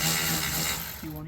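Compact power tool driving bolts into a brace mount for a slide-out in a shop working on a 1971 Chevelle SS, giving a rapid ratcheting, whirring mechanical buzz that changes pitch near the end, close and fairly loud.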